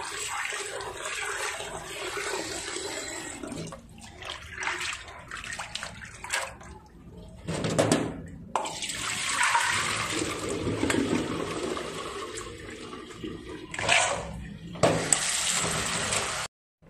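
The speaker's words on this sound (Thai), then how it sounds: "แล้วก็ล้างน้ำให้สะอาด" Running water rinses soaked black beans in a bowl, a steady rushing stream with breaks and sloshing handling, close and fairly loud, ending abruptly.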